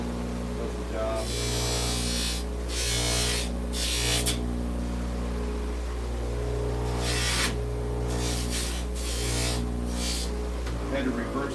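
An old Craftsman power carving tool, its motor run in reverse, hums steadily and closely throughout while carving a wooden Greenman face, with repeated rasping bursts as the bit bites into the wood.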